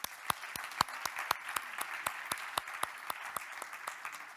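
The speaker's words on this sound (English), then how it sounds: "Please, a round of applause as our panel takes the stage." A conference audience applauds as a panel walks on stage, with steady, moderately distant clapping and sharp individual claps standing out over the crowd.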